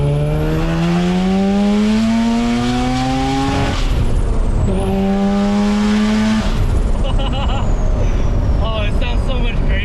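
A special Porsche sports car revs hard during a ride-along, loud rising engine notes through gear changes with pauses between pulls, and people talk over the engine.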